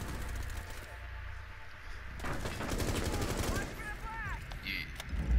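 Automatic gunfire rattles in Rainbow Six Siege, with bursts of rapid shots close by, mixed with game effects and people talking over them.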